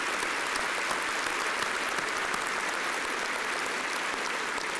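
Audience applause at a Louisiana Tech spring commencement, a sustained dense roar of many hands clapping in a large hall, steady throughout without talk.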